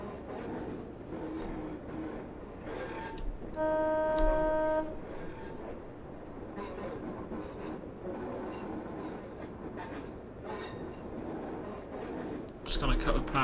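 A Class 142 diesel railbus in Train Simulator, running on low power at around 14 mph between Heysham and Carnforth, rumbles steadily with a brief horn-like tone partway through.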